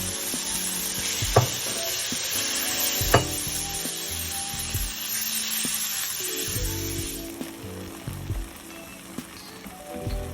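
Chopped tomatoes hit sautéed seasoning and flour in a pot for shrimp creole, setting off a steady close sizzle with a few soft scrapes and knocks, easing slightly toward the end.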